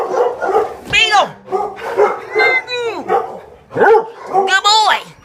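A beagle barks and yips repeatedly at close range in a pet hotel, with whimpering bays between short bursts, while a person talks over and around the barking.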